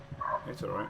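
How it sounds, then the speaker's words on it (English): A pet dog gives brief yips and whimpering barks indoors, overlapping with a person speaking in a short burst. "Oh my god, my dog. I'm so sorry about my dog."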